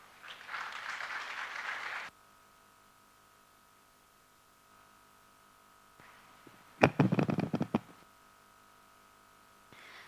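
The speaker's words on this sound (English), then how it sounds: "I request a big round of applause for inspiring all of us" Audience applause after a talk at a global leaders' diversity dialogue event, in two brief bursts: a steady wash of clapping at the start, a quiet pause, then a louder, sharper spell of claps near the end.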